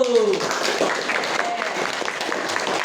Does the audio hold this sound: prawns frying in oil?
no